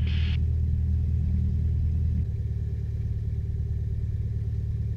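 A Cessna 152 aircraft engine runs at a steady, loud low drone, with a brief hiss at the start and a slight drop in level partway through.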